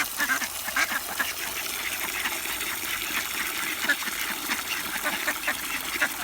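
Domestic mallard-type ducks, a mixed flock of drakes and hens, quack repeatedly at close range, a busy overlapping chatter with splashing water running steadily beneath.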